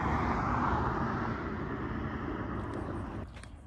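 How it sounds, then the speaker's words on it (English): A private jet passes overhead above Palm Springs, a steady broad roar that holds loud and then gradually fades as it recedes, heard alone without talk. "Private jet."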